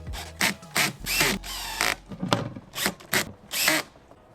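Tiny screws driven into the latch hinge of a YakAttack BlackPak Pro crate with a small power driver, heard as a run of short whirring bursts separated by brief pauses, close and clear, with no speech.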